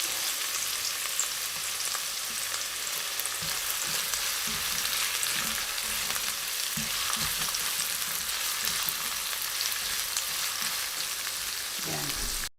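Ginger and garlic sauté in a hot wok with a steady, close sizzle that crackles continuously, and there is occasional stirring beneath it.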